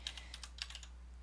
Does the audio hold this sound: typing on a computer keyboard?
yes